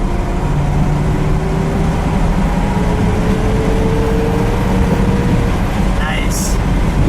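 A 1959 Chevrolet Bel Air with a 348 Tri Power V8 and four-speed, heard from inside as it accelerates, a loud steady engine drone with rising tones under road noise throughout.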